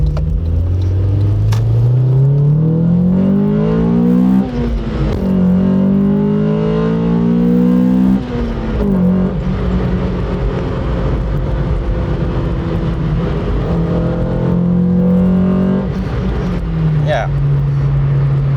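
A 2000 Honda Civic Si (EM1) engine revs up hard through the gears, its pitch climbing steadily, with a pronounced VTEC crossover at 5,600 RPM, then shifting and climbing again, loud and close throughout.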